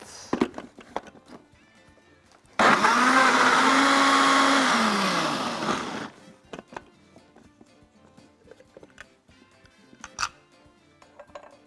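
Electric blender whirring loudly for about three and a half seconds as it mixes carrot and avocado juice, its pitch dropping as it winds down, between quiet kitchen clatter.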